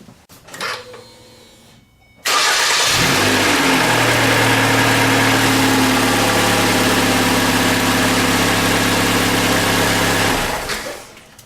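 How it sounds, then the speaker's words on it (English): Ford 2.5L four-cylinder Duratec engine cranking and catching after an oil change, a brief rattle before oil pressure builds, then a loud, steady close idle. "that initial noise goes away, which you probably heard, that rattling type noise, that's everything pumping back up and not having oil pressure for that first second or two"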